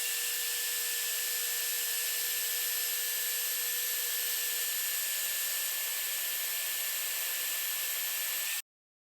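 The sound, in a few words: portable band saw cutting 1/8 inch aluminum bar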